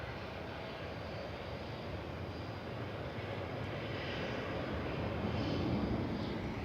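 A Boeing 787 Dreamliner jet airliner departs Manchester Airport, its engine roar a steady, broad rumble that swells slightly toward the end, with no talk over it.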